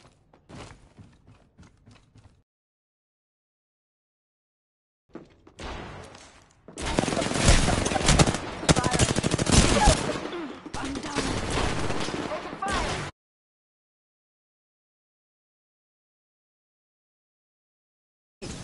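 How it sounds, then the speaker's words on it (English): Rapid bursts of gunfire in Apex Legends, a dense fusillade lasting several seconds, loud and close, with brief faint speech-like sounds before it and silence after. "Being shot at."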